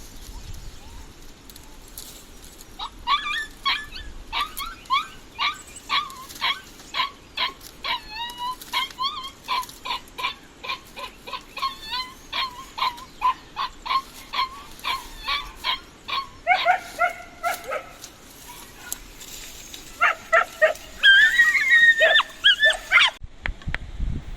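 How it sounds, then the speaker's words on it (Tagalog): Several dogs, large ones and a smaller one, bark in quick repeated bursts, with yips and whimpers mixed in. The barking is fairly close and grows more frantic toward the end. "Ang iingay po ng aming mga aso."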